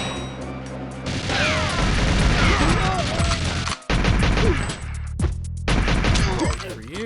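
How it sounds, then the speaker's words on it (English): Gunfire from the video game GoldenEye 007 comes in dense, loud bursts of rapid shots mixed with impacts and game music, with a brief break partway through and a voice now and then. "Can I do that without losing most of my health to the machine guns?"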